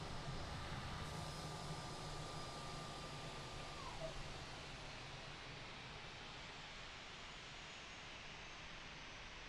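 Airliner approaching to land in Microsoft Flight Simulator 2020, a steady faint broadband engine roar with a thin high whine that dips in pitch, continuous and distant, without talk.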